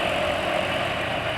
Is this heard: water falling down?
no